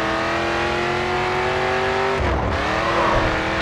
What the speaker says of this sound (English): Continue to turn and the back end will begin to slide out.